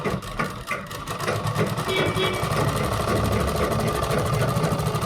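A sewing machine runs steadily for several seconds while stitching a kurta, a continuous close mechanical whir with faint rhythmic knocking underneath.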